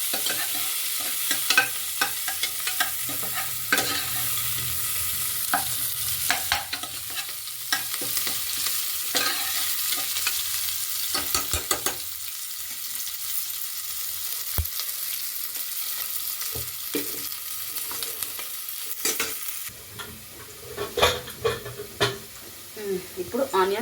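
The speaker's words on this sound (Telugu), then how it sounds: "ఇప్పుడు ఆనియన్స్ కొంచెం వేగాయి." Chopped onions sizzle and fry in a hot pan while being stirred for Andhra-style tomato rice, with a steady hiss broken by scraping stir strokes throughout and a few louder clatters near the end.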